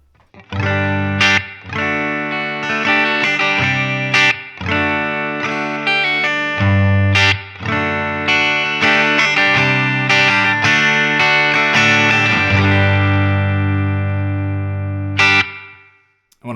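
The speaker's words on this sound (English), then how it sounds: "when I say tapped, I just mean like coil tap, so I've split the coil." Thinner, brighter tone from a Fender American Professional II Stratocaster with its bridge humbucker coil-split strums chord phrases and picked notes with steady sustain, closing on a held chord and a final accent.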